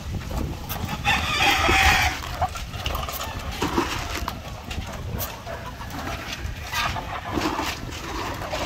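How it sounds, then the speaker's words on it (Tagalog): Asil chickens on a farm clucking and crowing, a loud crow near the start followed by scattered clucks and bird calls over steady outdoor noise. "Ito yung mga asil natin na manok."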